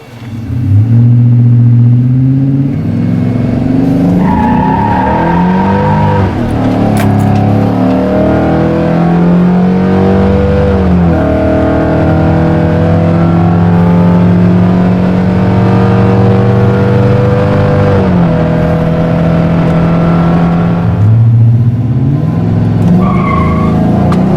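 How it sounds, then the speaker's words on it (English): A tuned car with a 6.2L engine launches hard, its loud engine climbing in pitch through repeated aggressive gear shifts, with tire squeal and a strong roar carrying throughout. "That way you can get harder launches and more aggressive shifts."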